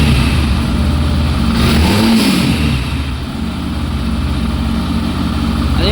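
A Yamaha FZ-S v4 Hybrid motorcycle idles loudly up close, then its engine revs once, climbing in pitch and falling back to a rumbling idle, with no speech.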